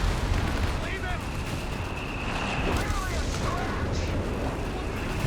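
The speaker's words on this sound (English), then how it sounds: "butterfly bombs going down in quite a defensive spot" Explosions from butterfly bombs dropping on a defensive position in a Company of Heroes 3 match, heard as continuous dense blasts and rumbling, with a person talking over them.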